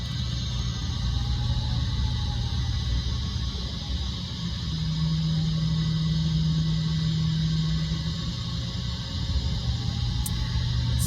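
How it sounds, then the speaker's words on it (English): A car ferry docks with its engines idling in a steady, loud low drone and a long tonal hum partway through as the ramp lowers, with no talk. "We're about to dock."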